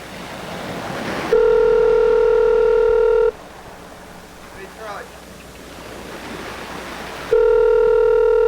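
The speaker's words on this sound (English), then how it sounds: "you gonna answer the phone?" An outgoing phone call rings back through a handset speaker in two loud, steady electronic ring bursts, separated by a quiet gap filled with faint background noise.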